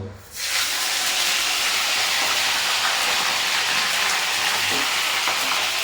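Cauliflower pieces drop into hot oil and set off a sudden loud burst of sizzling that settles into a dense, steady hiss of frying, close by with no voices.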